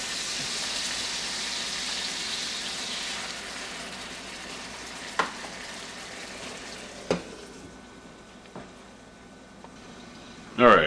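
Salisbury steak with onions frying in a hot greasy pan, a steady soft sizzle with a few sharp pops and clinks near the end.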